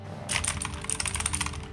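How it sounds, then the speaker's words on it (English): Rapid, loud clicking keystrokes on a computer keyboard, a dense run of clattering taps close to the mic with no talking. "Your typing sounds like the sound effects."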